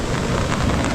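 Heavy rain pours down in a dense, loud, steady roar of drops on surfaces, with no voices over it.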